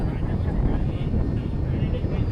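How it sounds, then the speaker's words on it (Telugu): A camera drone flies over the Ananthagiri Hills in drizzly weather, giving a loud, steady droning whir that stays close and constant, with possible voices blended into the noise. "ఇక్కడ డ్రోన్ షాట్ తీసుకొని రిటర్న్ వెళ్ళిపోదాం"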